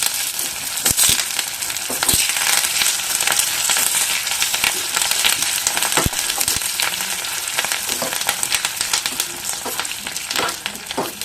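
Garlic, dried red chillies and curry leaves sizzle in hot oil, a dense steady crackle with sharp pops and spits throughout, close and loud, with no talking.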